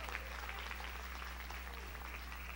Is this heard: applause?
yes